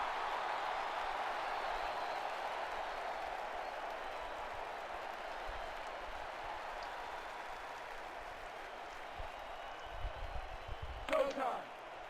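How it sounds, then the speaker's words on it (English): Football stadium crowd at an SFL quarterfinal game in Baltimore, a broad distant roar and murmur sustained under the broadcast, fading slightly, with a few sharper knocks and a brief burst near the end. "just listen to the crowd just here"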